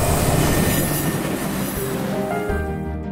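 A train rolls along railway tracks with a steady, loud rumble, faint wheel squeal and rhythmic clatter, heard close and alone.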